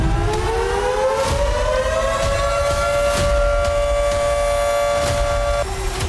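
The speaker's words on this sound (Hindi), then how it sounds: "हमले इतने जबरदस्त थे कि कीव समेत कई शहरों में लगातार सायरन बजते रहे।" Air raid sirens wailing across Ukrainian cities including Kyiv during heavy attacks, a loud sustained rising-and-holding tone with layered harmonics that drops in pitch near the end, alone without speech.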